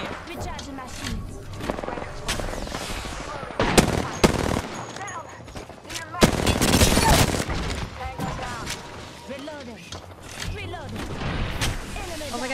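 Rapid automatic gunfire from Apex Legends combat with bursts striking the player, dense and loud with sharp peaks around the middle, mixed with other game sounds and a voice talking over it.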